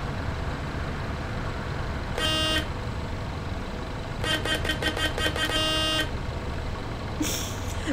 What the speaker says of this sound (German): Wenn sich so eine Hupe anhören würde, das wäre natürlich ganz cool.